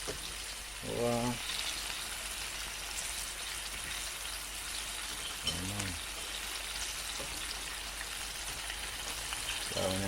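Chicken pieces frying in hot oil for a Sunday dinner, a steady soft sizzle running throughout, with a voice briefly speaking over it a few times.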